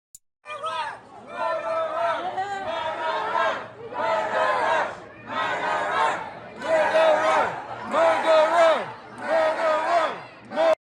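A crowd of Kent State University students chants in unison during a campus protest against a Kyle Rittenhouse appearance, loud repeated rhythmic bursts of many voices with short gaps between phrases.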